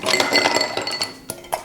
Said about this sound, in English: So we're going to add some ice to this mixing glass here.